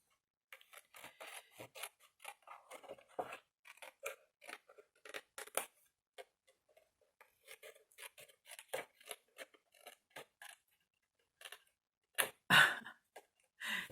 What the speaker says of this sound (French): Je ne sais pas ce qu'ils ont, mes ciseaux.